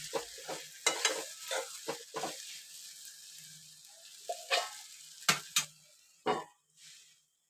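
A spoon scrapes and stirs thick masala with potatoes in a pan for a prawn masala curry, a series of sharp scraping strokes over a soft sizzle with short pauses between them.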